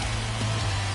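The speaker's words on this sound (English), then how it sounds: "And Dan, when it comes to pitching in the rain, what changes?" Steady rain noise in the baseball video game MLB The Show 21, an even broadband hiss with a low constant hum beneath, continuous and fairly loud with no audible speech.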